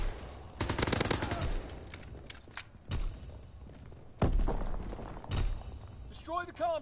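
Rapid bursts of gunfire in a World War II video game, several loud volleys with short pauses between them, and a voice talking over the shooting.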